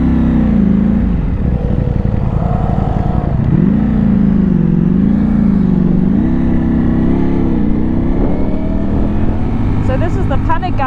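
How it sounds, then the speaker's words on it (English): A Ducati Panigale V4S motorcycle revs hard under heavy throttle and pulls away, its engine note rising and wavering loud and close throughout. "So I'm giving it a lot of throttle because the first time I tried to pull away I almost stalled."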